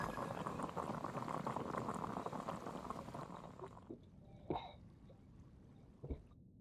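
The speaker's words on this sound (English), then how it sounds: "I'll boil some water." Water bubbling at a boil in the video game Genshin Impact, a steady close rolling simmer that thins out and ends with a few separate bubbling pops.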